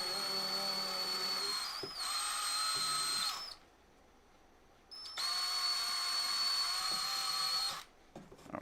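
A handheld drill opens up holes in 3D-printed Voron V2.4 gantry parts: two long, steady, high-pitched runs close by, separated by a brief pause, with no talking.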